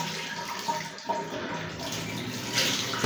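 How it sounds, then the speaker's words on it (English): Tap water running steadily into a sink during face washing, a close, continuous splashing stream with small shifts as the flow is disturbed. "Wash your face."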